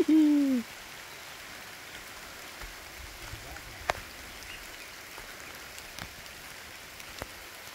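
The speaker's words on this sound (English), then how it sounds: "it's heavy rain now" Heavy rain falls in the mountains of Zambales, Philippines, a steady, soft hiss with scattered drops. A short voiced hoot-like call opens the sound.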